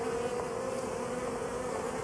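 Swarming honey bees drone in a dense, steady buzz that fills the whole stretch, loud and close with no voices over it.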